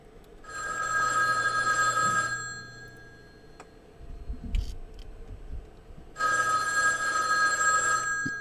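A telephone rings in two long bursts at the start of a call, with a quiet pause between them, clear and close against a faint background hum.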